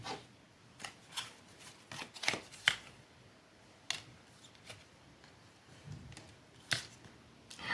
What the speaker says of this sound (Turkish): Yine buraya kart alalım.